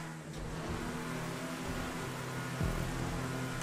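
A truck engine in GTA 5 revs and accelerates steadily throughout, with a continuous mid-pitched drone that rises slightly near the end, loud and close, with no talk.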